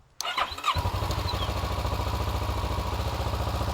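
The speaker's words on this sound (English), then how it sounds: "this should change as I hit the starter button" A motorcycle engine cranks on the starter and catches after a brief click, then settles into a loud, steady idle with an even, rapid pulsing beat that carries on to the end, close by and with no talk.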